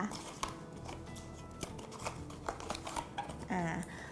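Packaging rustles and crinkles in short, close bursts as a boxed Huawei P9 Plus phone charger adapter is quickly unwrapped, with a few sharp snaps and light handling noises.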